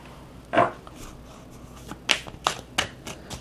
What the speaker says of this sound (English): I'm going to get out a few cards